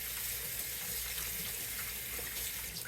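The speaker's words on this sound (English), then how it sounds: "Let's rinse that off again." Tap water runs steadily over freshly picked blueberries being rinsed in a sink, a continuous close hiss and splash with no talking.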